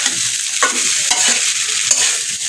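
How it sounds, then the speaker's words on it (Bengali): Rice frying in a hot pan gives a constant loud sizzle, broken by occasional clinks and scrapes as it is stirred. "ভাতটাকে ভাজছি"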